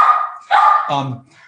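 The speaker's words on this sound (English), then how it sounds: "That's my dog. Apparently my dog doesn't want to hear about virology." A pet dog barks indoors, three quick close barks and yips in a row, loud and alone.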